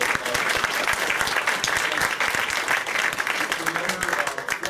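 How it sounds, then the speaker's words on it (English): An audience at a law alumni speaker event on the Flint water crisis case gives the panelists a loud, close round of sustained clapping, with dense, even applause throughout. "Let's give our panelists another round of applause."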